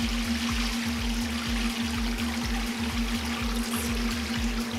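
Water drains steadily through a filter into a sump beneath a homemade hydrographics dip tank, a soft continuous trickle under a regular low pulsing hum from a pump, with no talk.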